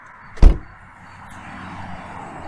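A BMW 118i trunk unlatching with one sharp, close mechanical clunk, then a faint low hum as the lid lifts open.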